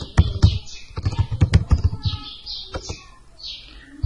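Quick, irregular bursts of keystrokes on a computer keyboard clatter close by, with brief pauses between runs of typing and faint bird chirps in the background.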